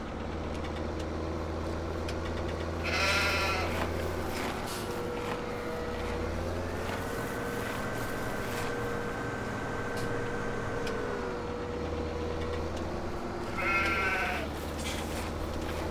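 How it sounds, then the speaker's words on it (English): Sheep bleating in the Farming Simulator 17 game on a Goldcrest Valley farm, two clear bleat bursts a few seconds apart over a constant low engine idle and a steady tonal hum. "Got 3 sheep now."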